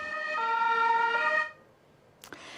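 An ambulance siren wails loudly for about a second and a half, then cuts off, followed by quiet street ambience and a brief clunk.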